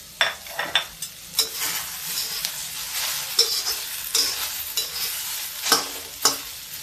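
Okra frying in an iron wok as fennel seeds go in, a steady close sizzle broken by repeated sharp scraping strokes and clinks of a spatula against the metal, with no voices.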